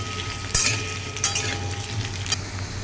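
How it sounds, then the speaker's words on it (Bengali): Potatoes fry in a pan with a soft, steady sizzle, and a few sharp clinks and scrapes of a utensil come up close over the hiss, with no talking. "এবার আমি আলুগুলোকে এক এক করে দিয়ে দিচ্ছি। আলুগুলোকে লালচে করে ভেজে আমি তুলে নেব।"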